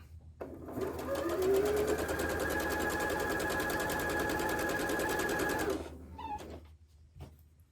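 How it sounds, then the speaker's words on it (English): A sewing machine stitches half-square triangle quilt pieces one after another for a Road to California quilt block, running in a steady, loud, even burst for several seconds before slowing and stopping, with brief handling noises afterward. "start sewing our half square triangles together"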